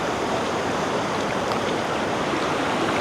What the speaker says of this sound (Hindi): ये नीचे पानी चल रहा है।